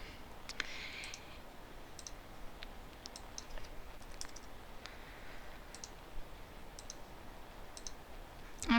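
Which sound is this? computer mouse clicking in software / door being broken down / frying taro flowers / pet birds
computer mouse clicking in software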